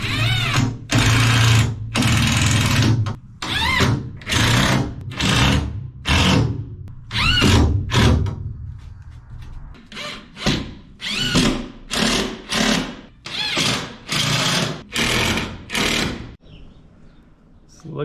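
A power drill drives screws into wall boards in a box truck camper build, with repeated loud short whirring bursts separated by brief pauses.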